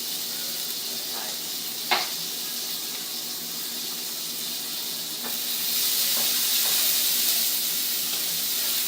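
Onions frying in a pan, a steady sizzle and hiss throughout with a few faint clicks of stirring, growing slightly louder toward the end.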